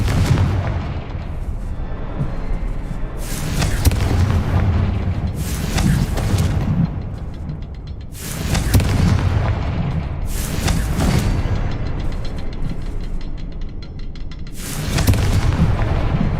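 Confringo spell blasts in the Hogwarts Legacy video game, a series of loud booming explosions every few seconds, each with a sharp crack and rumbling decay over a continuous low roar of game ambience.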